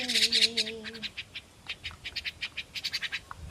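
Pet birds calling close by, opening with a few seconds of busy chirping over a brief tonal whistle, then a run of short, regular chirps and tweets continuing alone.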